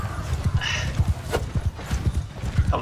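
Horse hooves clip-clopping in a cavalry battle in the video game Mount and Blade II: Bannerlord, a steady rapid rhythm of close, loud hoofbeats throughout, with a brief clash or whoosh midway.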